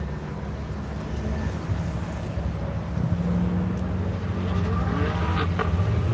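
A race car runs at constant throttle on a wet skid pad, a continuous rough engine roar with hissing tyre spray, steady and fairly loud, building slightly in the second half.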